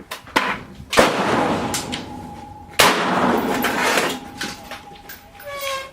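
Bushmaster ACR rifle shots fired at long range, about 750 yards, outdoors. A few sharp loud cracks, each followed by a rumbling tail, with faint voices between shots.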